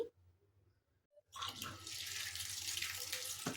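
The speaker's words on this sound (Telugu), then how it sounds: "ముందుగా మనము కాలీఫ్లవర్ని 2 to 3 times వాష్ చేసుకోవాలి" Water runs from a tap as cauliflower is washed in a kitchen sink, a quiet pause then a sudden steady splashing gush that continues to the end.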